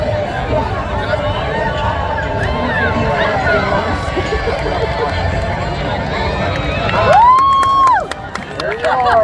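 Rodeo crowd at the Bulkley Valley Exhibition in Smithers, BC, holding a steady roar of cheering and hubbub that swells near the end, with an announcer talking over it and sharp whistles cutting through.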